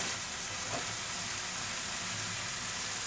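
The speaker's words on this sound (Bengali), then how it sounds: "মশলাটা কিছুক্ষণ কষিয়ে নিতে হবে, ভালো করে মশলাটা কষানো হয়ে যাবে।" Masala for a mushroom curry sizzling as it is fried in a pan, a steady bright hiss of frying that continues unbroken and fairly close, with no talking.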